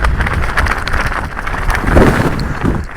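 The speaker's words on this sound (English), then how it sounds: "Oh, so windy." Strong wind buffets and roars across the microphone in continuous gusts, loud and rough, with no voices.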